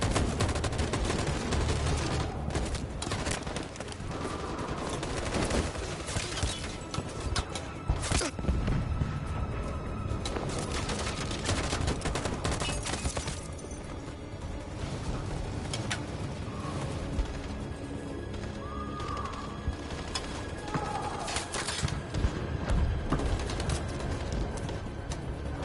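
Gunfire in the video game Detroit: Become Human, a long dense barrage of rapid shots and bursts that carries on loud and continuous throughout, with no talking.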